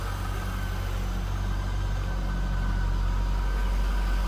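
A 2001 Chevrolet Corvette's 5.7-liter LS1 V8 engine idles with a steady, deep rumble and an even mechanical whir, unchanging throughout.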